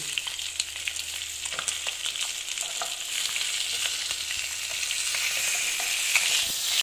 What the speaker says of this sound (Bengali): একটু মাছটা ভাজা হয়ে গেছে